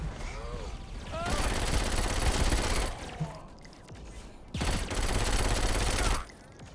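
A newly acquired weapon fires in the video game Saints Row IV, two long, loud automatic bursts separated by a quieter gap, with faint game sounds between them.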